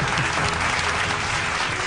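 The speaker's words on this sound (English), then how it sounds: "Oh, I'm clapping because I'm definitely clapping." Hands clapping in a studio, a dense, steady burst of many claps filling the whole moment at even loudness, with no talk over it.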